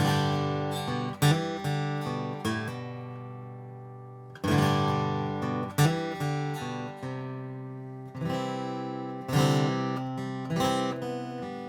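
Guitar strummed in full chords with picked melodic fills between them, a steady rhythm of ringing strums and short runs, close and clear.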